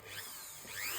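A Dremel rotary tool with a sanding wheel whirs steadily at high speed, its pitch shifting slightly as it sands carved mahogany, with no talking.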